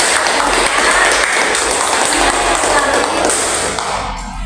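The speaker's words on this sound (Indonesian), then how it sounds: "Tepuk tangan untuk kita semuanya." Applause from a school class during a group guidance lesson, a dense steady wash of clapping that fills the room loudly and evenly before fading slightly at the end.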